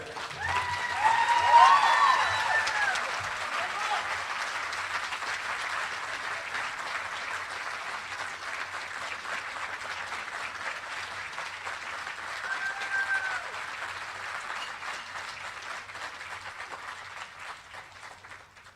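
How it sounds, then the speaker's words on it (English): Sustained applause at a Hall of Fame induction ceremony as an honoree for meritorious service is welcomed to the podium, a steady wash of many hands clapping that peaks early and holds evenly before gently fading. "the only thing raining upon her are applause and congratulations"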